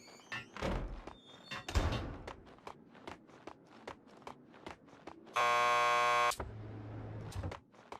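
A door buzzer in the Max Payne 2 video game sounds once as a loud, flat, sustained electronic buzz lasting about a second, set among footsteps and door thuds and followed by a lower hum.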